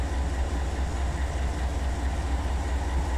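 A 15,000-ton freight train in Run 8 Train Simulator rumbles steadily on Tehachapi Loop, a dense, continuous low engine drone with a broad rail hiss over it and no distinct clicks, steady and near throughout.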